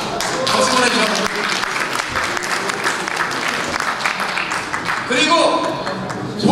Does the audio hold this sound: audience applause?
yes